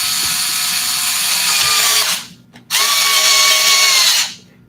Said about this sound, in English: the amount of noise from the screwdriver is the main character